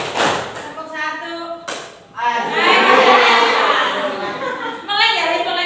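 Classroom pupils clap hands in a counted pattern, short bursts of near claps broken by a teacher's voice counting, with children's voices and chatter mixed in.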